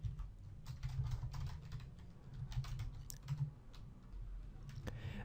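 Quiet clicking of a computer keyboard as a short file name is typed, in uneven bursts of keystrokes over a low hum, with no talk.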